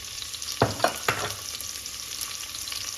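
Onions frying in olive oil in a pan for a beef stew, a steady bright sizzle with three quick scraping stirs near the start, then an even hiss.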